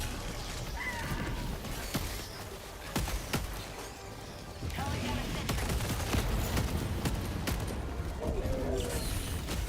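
Gunfire in a live-streamed video game, scattered sharp shots and bursts over a dense, busy mix of game effects and background noise, with voices murmuring underneath throughout.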